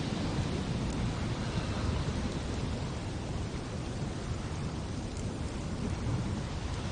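A Witcher 3 thunderstorm in Skellige rumbles as a low, continuous roar under steady rain hiss, broad and unbroken with no distinct crack or voices.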